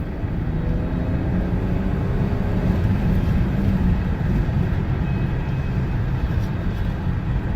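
A 1997 BMW 528 e39 accelerates gently up through second gear, a steady low engine drone and road rumble holding loud and constant throughout with no talk.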